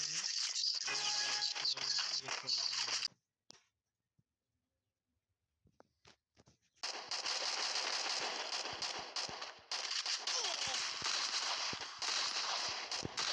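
Automatic gunfire from a shooting video game played against bots: dense, loud bursts of rapid shots, then a few seconds of near silence broken by single cracks, then sustained heavy firing again.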